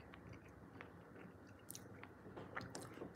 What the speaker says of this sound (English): And I'm eating almonds, so sorry if you hear me chewing.